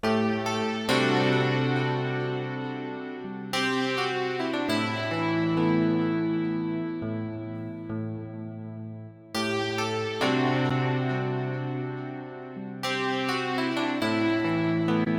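Thick, layered DX7 electric piano chords sustain and shift, with new chords struck every few seconds and no voices.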